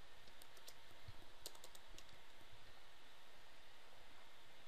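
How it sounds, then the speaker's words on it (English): Keys tapped on a computer keyboard while entering a product receipt number in business software, a short burst of faint, quick clicks over steady background hiss, then quiet. "Enter a product receipt number"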